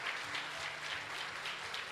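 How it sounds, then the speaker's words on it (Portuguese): A church congregation at a Portuguese-language service claps together, a soft, steady patter of applause heard faintly and at a distance for a couple of seconds. "Dá uma salva de palmas para Jesus"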